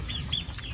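Hens in a chicken coop cluck in short, close bursts, with brief higher squawks over a steady low rumble.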